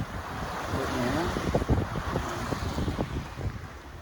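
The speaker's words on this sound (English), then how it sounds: "the waves are not bad at all" Wind and ocean waves wash steadily around a sailboat under way in roughly foot-high seas off the Bahamas, a continuous broadband rush with brief water slaps and thumps near the hull, no talk.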